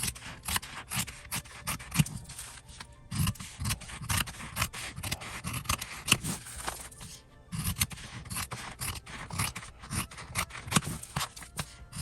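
Scissors snip and scrape through fabric scraps up close, a continuous run of crunchy cuts and rustles with brief pauses between strokes.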